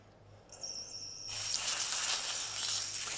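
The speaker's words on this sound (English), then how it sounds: "It sizzles in a pan" Lab-grown beef hitting a hot pan, a bright hiss that starts abruptly and settles into a steady, close sizzle, following a faint high tone.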